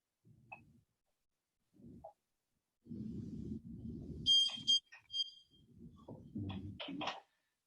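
A bicycle alarm triggered by gusts of wind sounds a few short, high electronic chirps and bursts, loud and close, broken up by low thumps and rustling.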